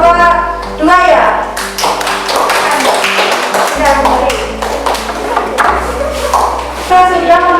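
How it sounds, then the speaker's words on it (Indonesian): A classroom group applauds after a student presentation, with scattered hand claps and taps mixed with children's chatter and a teacher's voice over the whole stretch. "Tepuk tangan untuk penampilan kelompok 2 ya"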